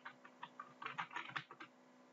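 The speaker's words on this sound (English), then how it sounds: "I'm just typing commas between these" Fingers type on a computer keyboard in quick, uneven bursts of soft clicks, close and fairly quiet, with a faint steady hum underneath.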